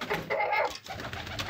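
A pair of black Shirazi pigeons coo close by, giving a few soft, throaty rolling calls that swell and fade over a moment, with no talk.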